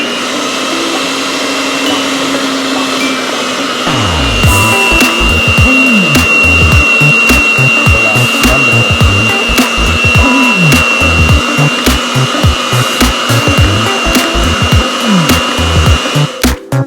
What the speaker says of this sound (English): After mixing all the ingredients in our mixer for 5 minutes